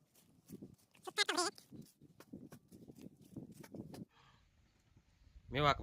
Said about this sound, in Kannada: ಮೇವು ಹಾಕ್ರಿ ಎಮ್ಮೆಗಳು ಅಂತ